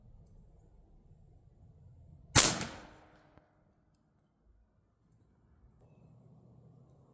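A single sharp, loud crack from a .45 caliber airgun fired outdoors, with a short decaying echo after a quiet background, then near-silence and faint ambient rumble returning.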